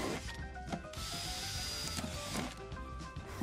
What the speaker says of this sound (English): drill several drainage holes with a 6mm drill bit